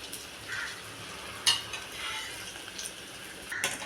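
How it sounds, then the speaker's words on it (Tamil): Pachcharisi rice-flour murukku fries in hot oil, giving a quiet, steady sizzle with faint scraping and a few light metallic clinks from a utensil, close by and without talk. "இதை எண்ணெயில் போட்டு பொரித்து எடுத்துக்கலாம்."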